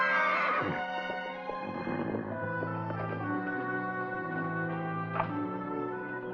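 Horses whinnying at a ranch in a western drama, a loud close neigh followed by more harmonic calls and a quieter whinny near the end, with faint hoof thunks underneath and no talk.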